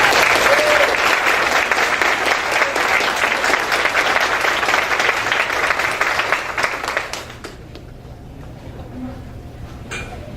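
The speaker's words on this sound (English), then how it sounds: "I want to have everybody give this person a round of applause for this achievement in college algebra for spring 2013" An audience at a college student awards ceremony applauds steadily and loudly for a college algebra award winner for about seven seconds, then the clapping stops and the room goes quiet.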